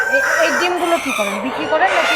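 Chickens on a Bhola poultry farm, a shed holding about two thousand birds, clucking and calling continuously, with rooster-like crowing rising and falling over a dense flock murmur, fairly loud and close.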